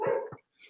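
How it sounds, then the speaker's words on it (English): A pet dog barks during a live reading at home, giving two quick close barks followed by a short faint yip. "Sorry for my dog barking."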